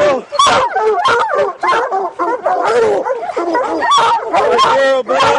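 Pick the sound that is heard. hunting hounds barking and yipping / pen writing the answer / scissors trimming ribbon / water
hunting hounds barking and yipping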